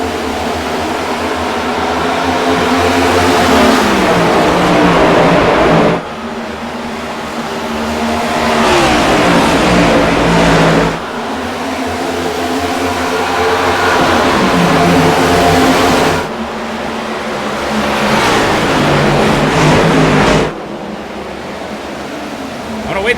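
NASCAR race car engines in the iRacing sim during an All-Star race, a loud continuous roar that climbs in pitch in long surges and drops off sharply every few seconds, with voices talking over it.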